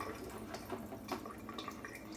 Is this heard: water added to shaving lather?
yes